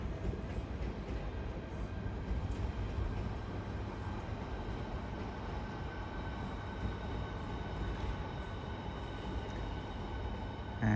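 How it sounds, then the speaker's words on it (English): Southeastern Class 395 train from Ramsgate pulling into a London terminus, a steady low rumble of wheels and motors that holds at an even level throughout. "Incoming now will be a terminating Southeastern service from Ramsgate"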